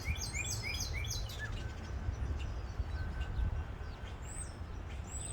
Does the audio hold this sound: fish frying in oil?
no